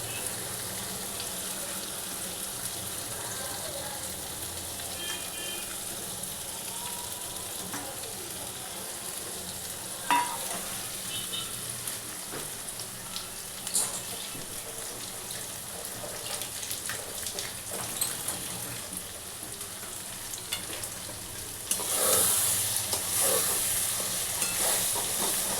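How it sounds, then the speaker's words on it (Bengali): A paste of poppy seed, coconut and green chili is sautéed in a pan with a steady, soft sizzle and hiss. Occasional stirring clinks sound over the sizzle, and the frying grows louder near the end. "এটাকে এরমভাবেই আমি খালি কষতে থাকবো"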